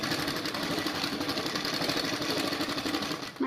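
A sewing machine stitches a fall onto a saree, a close, steady rapid whirring clatter that runs continuously before slowing at the end, with no voices.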